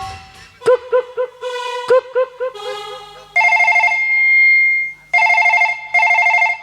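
A telephone rings loudly and close in a staged Bihari folk dance performance, first as a rapid stuttering burst of tones, then as long electronic ringing bursts repeating with brief gaps.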